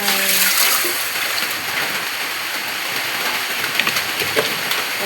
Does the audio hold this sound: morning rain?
yes